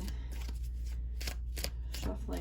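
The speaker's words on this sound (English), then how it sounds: "I'm just shuffling" A Cosmic Tarot deck riffled and shuffled in quick, crisp bursts, close up, repeating steadily over a faint background hum.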